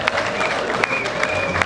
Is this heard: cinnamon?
no